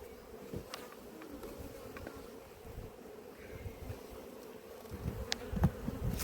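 Honeybees at an apiary hive drone in a steady, close buzz throughout, with occasional individual bees zipping past the microphone and light wind rumble underneath.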